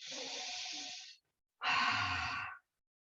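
Two long, deep breaths taken during a yoga rest, each a breathy hissing exhale lasting about a second with a short silent pause between them, close and clear.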